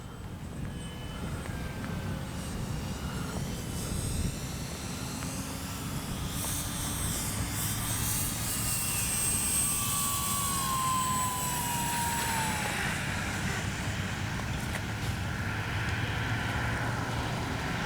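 An X-Fly Spitfire RC warbird model flies past overhead, its electric motor whine rising and falling in pitch as it circles near and far, steady throughout with no talking.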